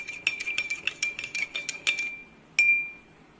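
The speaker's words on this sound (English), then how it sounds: "Again I am stirring the solution." A spoon stirring a salt solution in a glass, with a quick run of bright metallic clinks against the rim, then a pause and one last ringing clink.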